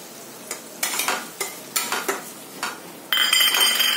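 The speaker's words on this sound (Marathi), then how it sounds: "रवा छान भाजून घ्यायचा" A spatula scrapes and taps a pan in a quick irregular rhythm while dry semolina rustles as it roasts for upma, then a loud steady sizzle takes over near the end.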